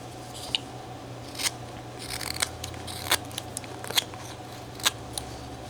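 A carving tool cuts into wood for a carved wedding scene, with a series of short, crisp slicing snicks spaced irregularly over a steady low room hum.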